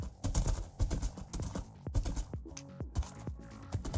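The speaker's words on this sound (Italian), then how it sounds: "abbiamo trovato dei cavalli scheletro, guarda che pena" Skeleton horses clip-clop in Minecraft, a busy run of quick hoof clicks and knocks close by, overlapping at first and then spacing out into separate ringing taps.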